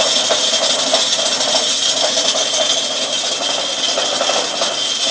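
A modified bandsaw with a homemade hydraulic cylinder feed runs steadily with a bright whine, and the blade intermittently knocks against its guide rollers, giving faint irregular ticks under the continuous loud drone.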